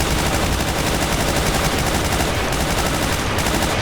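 Continuous machine-gun fire in the shooter game Brutal Doom, a dense, rapid, unbroken stream of loud shots filling the whole stretch with no talk over it.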